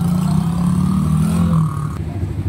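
A 125cc ATV engine runs steadily on a test drive, a loud, close, continuous drone with a steady low hum that eases slightly near the end.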